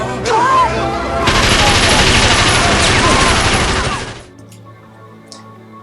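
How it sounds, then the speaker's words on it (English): A Tommy gun, the Thompson submachine gun linked to 1920s gangsters, fires a long, loud sustained burst of rapid shots for about four seconds before cutting off into near silence. "The weapon that every stereotypical gangster would use was the Tommy gun."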